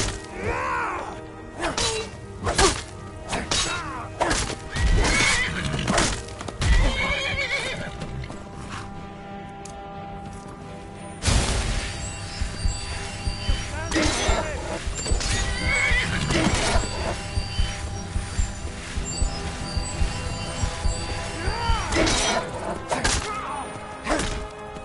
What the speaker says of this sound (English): Damn, you have my horse coming up here.